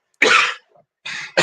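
Two sharp, close coughs from a man, the first longer and harsher, the second shorter after a brief pause, with silence in between.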